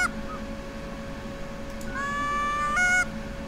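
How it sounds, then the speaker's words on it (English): Geese honk in the hunting video game The Hunter: Call of the Wild, a few clear, drawn-out nasal calls rising near the end over a faint steady background hum, with no talking. "Oh, geese. I can hear them."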